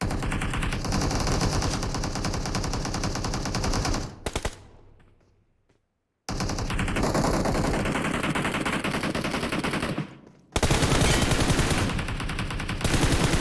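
Sustained automatic gunfire in PUBG Mobile, loud rapid bursts that cut out briefly, drop away into silence and then resume just as dense.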